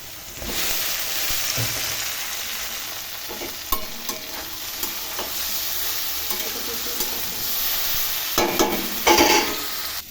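Broccoli tossed into lightly fried vegetables in hot oil, sizzling steadily while a spoon scrapes and stirs the pan, with sharper clatters near the end; close and continuous, no talk.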